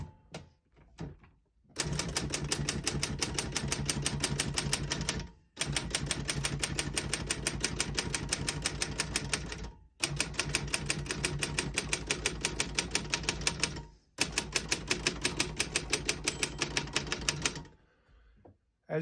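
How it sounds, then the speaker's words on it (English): A 1958 Royal FPE manual desktop typewriter typed on key after key in four long rapid runs, dense mechanical clacking up close, each burst ending in a brief pause with a faint carriage noise. "As you can see, all the keys type nice and none of them skip or stick."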